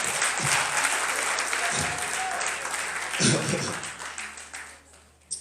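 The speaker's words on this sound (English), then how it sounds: "Give yourself a round of applause" Audience applause at a 2019 rhythm section drumming masterclass, a steady wash of many hands clapping in a room, with a few louder bursts, gradually thinning toward the end.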